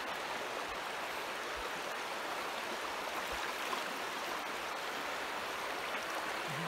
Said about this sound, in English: River.